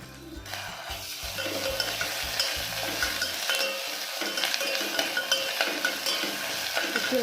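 Ginger paste fries and sizzles in a pan while being stirred, a dense continuous hiss with small scraping stirs, close up and steady.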